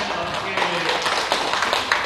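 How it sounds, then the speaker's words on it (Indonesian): Brief, moderate clapping from a group of teachers at a training session, mixed with murmuring voices throughout. "Beri tepuk tangan ya"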